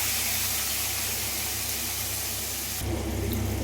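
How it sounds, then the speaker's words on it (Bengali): Tomato paste added to hot oil for a Bengali pabda fish curry, giving a loud, dense, steady hiss that shifts abruptly in tone near the end. "পেস্ট করে টমেটোটা দিয়ে দেবো।"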